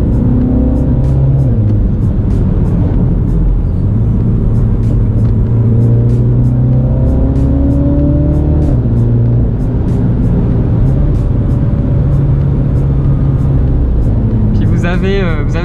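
Mini JCW F56 engine pulling hard through its automatic gearbox, a loud, continuous rumbling growl rising in pitch with each gear and dropping at shifts, heard close from inside the car, ending in a burst of crackle.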